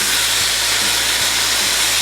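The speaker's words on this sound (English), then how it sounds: "Alright, our ribeye is on." Ribeye steak on a hot Blackstone flat-top griddle, a loud, steady hiss of sizzling close up with a faint rhythmic low thump underneath, no voices.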